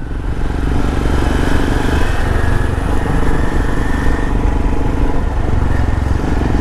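A 2021 Royal Enfield Himalayan adventure motorcycle's single-cylinder engine drones steadily and loudly while riding, a continuous close throbbing rumble with constant engine pitch and wind noise throughout.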